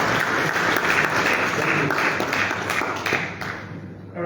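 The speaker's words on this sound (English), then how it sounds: "I think he deserves a bigger hand of applause" Applause at a West African central bank governors' committee meeting in Liberia: a hall audience claps steadily and fairly loudly, then the clapping thins and fades out near the end.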